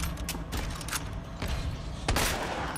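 Rapid gunfire in Resident Evil 2, aimed at Mr. X: a handful of sharp, close shots in an uneven rhythm, with a heavier blast near the end and no voices.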